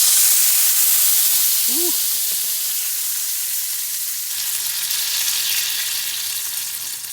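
Red wine hisses and sizzles steadily in a hot pan on a folding woodstove inside a winter tent, a continuous broadband fizz that fades slightly toward the end, with one short exclamation from a voice near the start.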